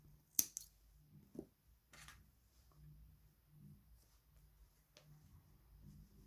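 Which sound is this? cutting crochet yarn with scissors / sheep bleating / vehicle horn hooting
cutting crochet yarn with scissors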